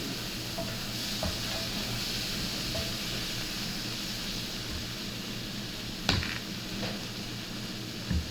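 Chilli shrimp sizzling in a pan, a steady crackling hiss with a few sharper clinks near the end as it is stirred; no voices.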